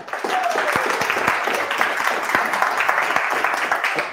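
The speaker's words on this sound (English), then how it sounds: "I'd like to have a round of applause for Mr. David Kelly." An audience at a Ruby programming meetup applauds steadily, with dense clapping throughout and a few individual claps standing out.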